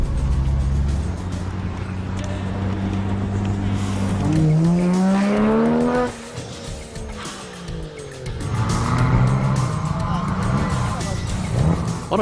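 A black AE86 and a black FD RX-7 drift along a mountain touge road at night: engines rev up and down with rising and falling pitch, tires squeal, and one car fades before another surges back in close.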